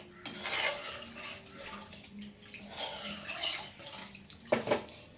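Water and curry leaves go into a pot of fish curry: a close splash and pouring sound with metal pot and utensil clatter, then a sharp clink near the end. No one speaks.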